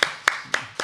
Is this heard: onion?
no